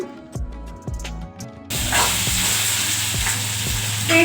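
Whole black peppercorns crackle and splutter in hot oil as a tempering for quick beetroot palya, a few sharp pops at first, then a loud steady sizzle with repeated popping, close by and with no talking.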